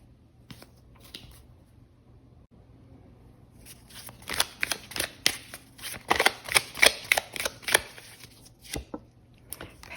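Tarot cards being shuffled and drawn, a few soft riffles at first, then a fast run of crisp, close flicks and snaps before the sound eases off, with no talking.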